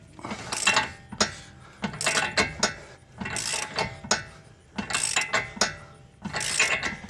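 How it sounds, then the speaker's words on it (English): Ratchet turning a rusted bolt on the front wheel bearing of a 2013 Hyundai Sonata, close rhythmic clicking bursts repeated about five times with short pauses between them. "then you can basically just get it with the ratchet pretty easy at this point"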